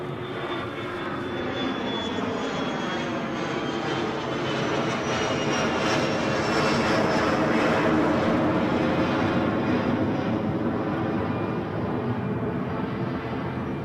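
A passenger jet takes off at Edinburgh Airport, its engines a steady, loud roar that swells slightly at the middle and holds for the whole stretch, with no voices over it.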